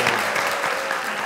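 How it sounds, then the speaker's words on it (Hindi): A television talk show studio audience applauds steadily, with a full, continuous wash of clapping throughout. "तालियां।"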